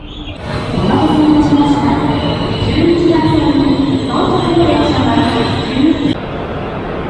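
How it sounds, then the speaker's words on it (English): A Japanese bullet train rumbles in at a station with a steady, loud roar and a rising high whine, with a faint babble of voices around it. "Definitely looks like another bullet train."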